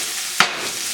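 Peppers and onions sizzle softly in a hot pan, and one quick stirring scrape cuts through the constant frying hiss.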